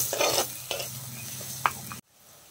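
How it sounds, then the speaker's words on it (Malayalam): Slit green chilies are stirred into a simmering fish curry in a pan, making a few scraping strokes over a low sizzle before the sound cuts off abruptly. "നന്നായിട്ട് ഇളക്കി കൊടുക്കാം."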